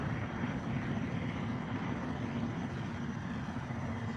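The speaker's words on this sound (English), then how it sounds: "Spooling the hyperdrive." A spaceship hyperdrive spools up in a space exploration video game as a steady, droning engine roar with a broad, rumbling hum, continuous and even throughout with no voices.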